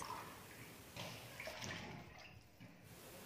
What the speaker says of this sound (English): I'm going to add in my water now